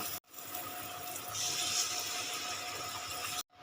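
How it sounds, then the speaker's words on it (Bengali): Water pours in a continuous rush into simmering gravy for vetki fish jhal, a steady, close splashing stream lasting about three seconds between brief gaps. "পরিমাণ মতন জল দিয়ে দিলাম"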